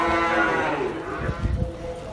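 Cattle moo loudly and close, one long, drawn-out call followed by lower grunting sounds, with no talk over it.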